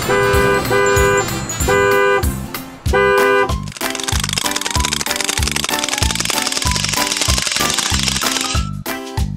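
A yellow school bus horn gives a few short, bright toots near the start over a lively children's music track, after which the music continues on its own.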